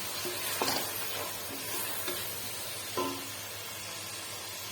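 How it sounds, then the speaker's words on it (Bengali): Bay leaves and cardamom drop into hot oil in a pan and fry with a continuous soft hiss. A few light clicks and small pops sound nearby, while the steady sizzle stays even and fairly quiet with no talking. "এবার একে একে আমি সব মশলা দিয়ে দেবো যে আমি এখানে তেজপাতা আর এলাচ"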